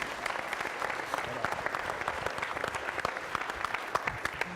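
Audience applause at a conference in Toulouse, a steady mass of many hands clapping at moderate level that fills the whole stretch without a break.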